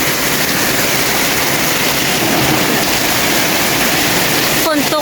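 Heavy rain pours down hard and steady during a storm in Laos, a dense continuous hiss near at hand, with a brief sharp crack right at the end.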